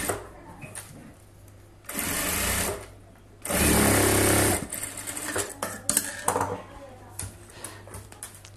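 A sewing machine runs in two sustained bursts, stitching a rough tacking seam around a cross-cup blouse a quarter inch from the edge, with quieter handling noises between the runs.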